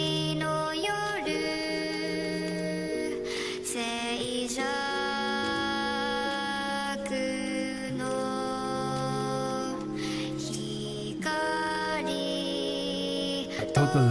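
Instrumental track in a Final Fantasy XI style, a steady layered piece of sustained melodic tones and chords running throughout at moderate, even loudness.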